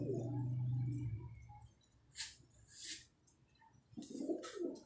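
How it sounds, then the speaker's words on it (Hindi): A pair of Jaunsari pigeons coo in low, throaty rolls, one at the start and another near the end, faint and close, with a couple of brief rustling bursts between them in a quiet setting. "लो जी ये जौनसरों का जोड़ा देखें, माशाल्लाह जी, बहुत लाजवाब कबूतर है ये"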